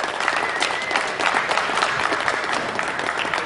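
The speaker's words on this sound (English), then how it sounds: "I need to hear just a great big round of applause." A crowd at a contest winner's presentation claps in a full, sustained round of applause, dense and steady throughout with a brief dip near the start.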